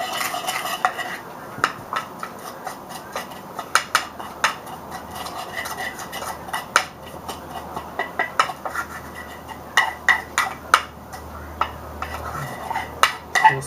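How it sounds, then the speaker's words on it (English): A spoon stirs an incense blend in a bowl, giving repeated close clinks and scrapes against the bowl in an uneven rhythm, with no talk. "You can just swirl the bowl around, get the spoon in there, and just give it a mix."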